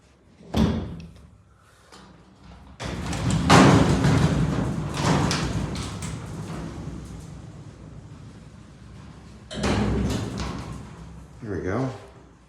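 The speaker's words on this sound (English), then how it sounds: "Gotta shut the door first." A heavy 1970s Dover freight elevator door at Oak Mill Plaza in Niles, IL, is pulled shut with a loud scraping rumble and solid thuds, followed by a second bang near the end; someone talks over it.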